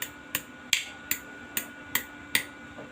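A small hammer taps a stainless steel bike part, seven crisp, evenly spaced metallic strikes about every 0.4 seconds, close and clear with no voices.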